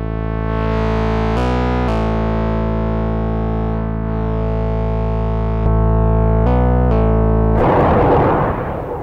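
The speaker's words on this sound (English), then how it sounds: "That adds a lot of noise. It is an analog overdrive pedal" An analog overdrive pedal gives a loud, buzzing distorted tone with shifting pitches, ending in a harsh burst of noise near the close, with no voices.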